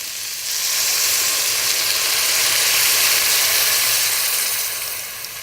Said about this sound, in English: I'm going to add in now